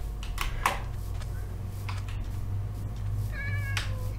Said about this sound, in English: Oh, there's a kitty cat.